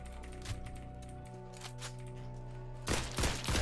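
Shotgun blasts in the Roblox game Criminality, a loud burst of several shots near the end over steady game background sound with a few earlier cracks.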